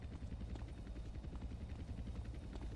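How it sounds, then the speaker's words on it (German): Aircraft fly overhead in GTA San Andreas, a continuous low rumbling drone with a rhythmic beating throb, like rotor or engine noise, heard steadily throughout. "das sind diese heftigen Flugzeuge"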